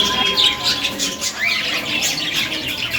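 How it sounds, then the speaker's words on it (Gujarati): Many colourful parrots squawk and chirp at Kashtabhanjan Mahadev temple in Rajkot, a loud, busy chorus of overlapping calls and wing flutters that runs throughout. "મસ્ત મજાના અલગ અલગ પક્ષી છે બધા પોપટ છે"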